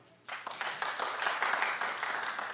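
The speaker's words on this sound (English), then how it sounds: "Clap if you enjoyed Madonna." A television talk show studio audience bursts into steady, enthusiastic clapping that starts abruptly and continues evenly, heard close and without talk.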